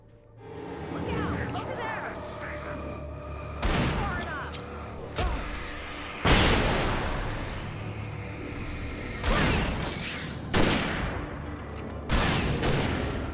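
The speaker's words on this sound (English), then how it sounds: "Also, flashbangs in this game, best boy" Flashbang grenades going off in the video game Alan Wake Remastered, a series of loud sharp bursts with ringing decay, spaced irregularly over continuous game ambience and music.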